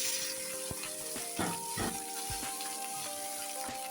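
Cooked rice fried in a pan with onion and garlic for an ilish rice dish gives a steady, soft sizzle, broken by scattered clinks and scrapes of stirring.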